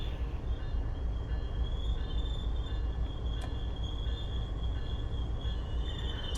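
An HSB46 train for the Boston Sprinter runs steadily in Train Sim World 5, a constant rumbling roll with a faint high whine above it and no voices.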